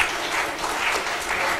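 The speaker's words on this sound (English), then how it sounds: "let's give him a warm hand of applause" Conference audience applauding Dr. John at the PAWA Conference 2018, a brief burst of dense, even clapping from a large room with no voices over it.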